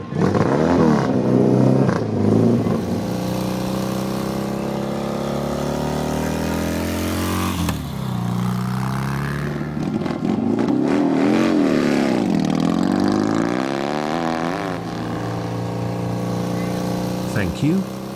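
A BMW R100 RS cafe racer custom motorcycle by Kingston Custom, its boxer engine revving and rising in pitch in repeated loud pulls, heard up close and continuous throughout.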